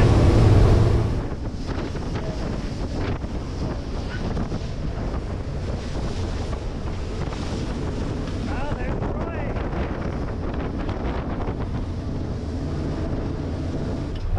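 A fishing boat motors out toward a reef, steady engine drone and wind buffeting the microphone with water and surf wash throughout, a loud gust at the start then an even, continuous roar.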